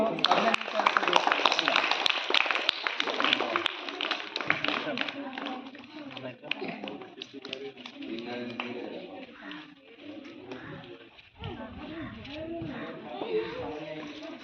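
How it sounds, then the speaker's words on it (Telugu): Scattered applause from a small crowd at a village rangoli contest prize-giving in Domakonda, light and uneven clapping under a steady announcer's voice over a loudspeaker. "ఒకసారి చప్పట్లతో"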